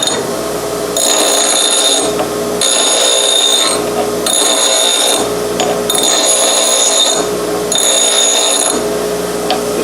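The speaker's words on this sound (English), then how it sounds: "So a bench grinder will make short work of this." A bench grinder dresses the mushroomed head of a steel wedge in bursts of high, ringing grinding, about five contacts separated by brief lulls where the motor hum carries on.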